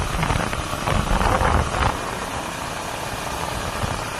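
A vehicle engine runs on a trip toward the Bataan mountains as a rough, steady rumble under broadband wind-like noise. It is louder for the first two seconds, then settles to an even drone.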